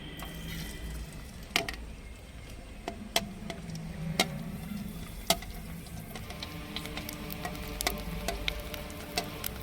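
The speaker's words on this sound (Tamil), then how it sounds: "இப்போ நம்ம பூரியெல்லாம் போட்டு பொரிக்க ஸ்டார்ட் பண்ணிடலாம்." Quiet crackling and popping of puris deep frying in hot oil, with scattered sharp ticks over a low, steady bubbling hiss.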